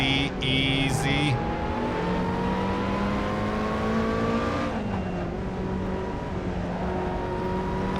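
A race car engine drones steadily in Assetto Corsa, its pitch climbing through the gears with a brief shift dip, loud and close throughout, with faint talk over it.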